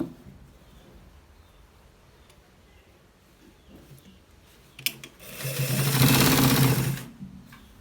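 A sewing machine runs in one loud burst of rapid stitching along a shirt collar, starting after a few seconds of quiet handling noises and stopping abruptly near the end.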